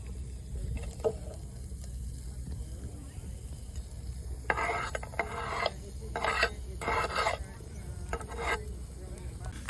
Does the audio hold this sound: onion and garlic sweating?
yes